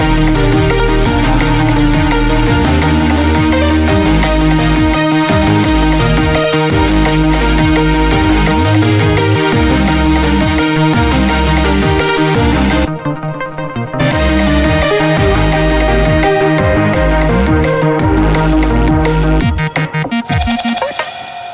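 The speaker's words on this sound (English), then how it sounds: "Reverse cowbell." Dense, loud electronic music mix carrying a reversed cowbell swelling backward into the beat, layered with bass and drums, with a brief drop near the middle and no talk.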